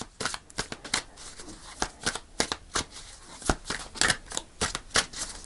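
A tarot deck is shuffled by hand close up, a quick run of crisp riffling slaps and flutters in an uneven rhythm, loud against a quiet background.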